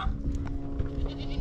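Goats bleating in a farm pen on vaccination day, several overlapping calls rising over a busy, rustling low background, fairly close and steady throughout.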